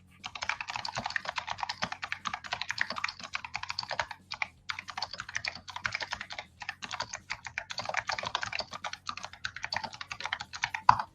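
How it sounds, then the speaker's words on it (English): Steady rapid typing on a computer keyboard, close and fairly quiet, with dense clattering keystrokes running throughout and a couple of brief pauses, no voice. "Excuse the typing."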